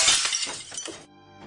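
Glass shatters in a radio drama scene, a loud bright crash with tinkling fragments that trail off after about a second, heard alone with no talk.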